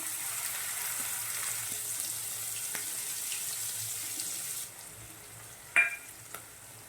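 Green chillies and green garlic hit hot oil in a pan while making moong dal shaak, giving a steady hissing sizzle for most of the clip, then it quiets and a couple of sharp stirring clinks follow.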